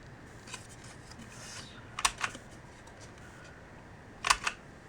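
A paper punch chomps through one edge of pattern paper for a holiday card, giving two quick crunchy bursts about two seconds apart against a quiet room with no talking.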